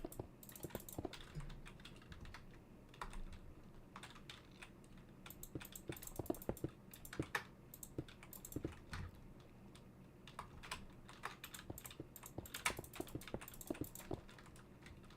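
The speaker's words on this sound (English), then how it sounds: "Guys like the keyboard sounds." Computer keyboard typing loud and close during a live Minecraft building stream, a steady run of quick clicky keystrokes with irregular bursts and pauses throughout.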